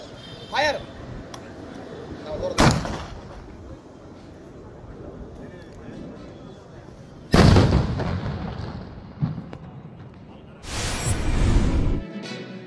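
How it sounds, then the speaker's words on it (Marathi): Gunfire and tear gas shell launches from a police riot-control mock drill near Khed, Pune: a few sharp, loud bangs spaced apart, the later ones with longer rumbling tails, over a steady outdoor background. "या सरावात गोळीबार, हातगोळे फेकणे, अश्रुधूर नळकांड्यांची चाचणी अशा सर्व उपाययोजना प्रत्यक्षात करून पाहण्यात आल्या"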